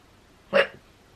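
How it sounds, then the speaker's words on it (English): One sharp, short hiccup from a person, close and distinct against near silence. "oh my goodness, I need to hiccup"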